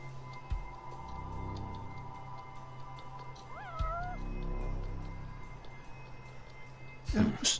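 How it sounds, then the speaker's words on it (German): A cat meows once in the video game Judgment, a short rising-and-falling cry heard over a low background hum, followed by a loud burst of noise near the end. "Ich höre die Katze doch."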